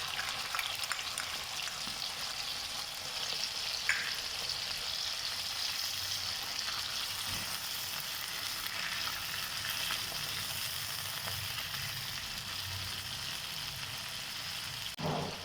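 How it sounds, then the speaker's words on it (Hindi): Green chillies frying in a pan with whipped yogurt, a continuous even sizzle and bubbling throughout, close and moderately loud, with a brief clink of utensil near the end and no speech. "अब इसके अंदर आधी प्याली फेंटी हुई दही शामिल करेंगे।"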